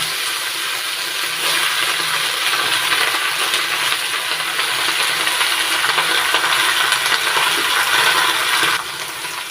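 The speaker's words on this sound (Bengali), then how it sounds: "এবার দিয়ে দিচ্ছি কেটে ধুয়ে রাখা পুঁই শাক।" Chopped, washed Malabar spinach lands in a hot pan of mustard oil tempered with black cumin seeds, giving a loud, steady hissing sizzle that holds for several seconds before easing slightly at the end, with no talk.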